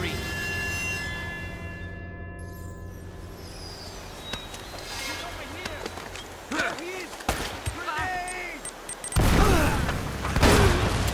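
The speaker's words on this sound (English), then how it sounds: "Grenade!" A grenade explosion in Uncharted: Drake's Fortune, a booming blast near the end after scattered gunfire, footsteps and game noise, with a voice speaking in between.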